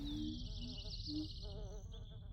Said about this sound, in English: Some more bug noise.